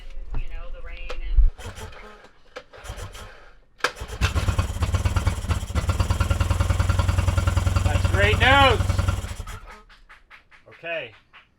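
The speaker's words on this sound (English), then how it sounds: "I'll run it for just a minute, and then I'll change the oil one more time" A small dinghy outboard engine starts and runs after an oil change, a steady buzzing drone close by for several seconds before cutting off, with voices talking before and after and a brief whistle-like tone during the run.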